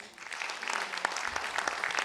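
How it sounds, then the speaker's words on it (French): An audience at an official signing ceremony in Le Moule, Guadeloupe, applauds a sub-prefect, a moderate, continuous patter of many hands clapping heard from a short distance. "sous vos applaudissements"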